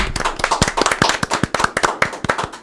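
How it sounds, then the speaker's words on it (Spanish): Clapping from a small studio audience at the opening of a Dominican talk show, a quick run of sharp, distinct hand claps with clear individual hits, close and fairly loud, and no speech. "Un aplauso."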